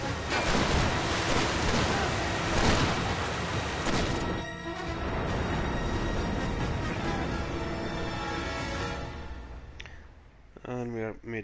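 Ocean waves and surf in the video game Uncharted 3 swell loudly with wind and rushing water, then fade, as a voice begins speaking near the end.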